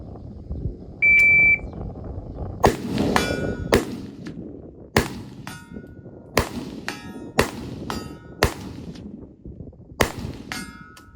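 Rifle shots from a Bulgarian AK-74 in 5.45 ringing on steel targets during a shooting match: about ten sharp metallic clangs at an uneven pace after a short start beep, no talking.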